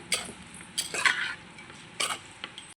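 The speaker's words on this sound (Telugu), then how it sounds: "ఒకసారి మొత్తం తిప్పుదాం" Cooked rice is stirred into tamarind gravy in a pan with a spoon, giving a handful of close scraping and clinking strokes against metal, spaced unevenly, with a soft wet mixing sound between them.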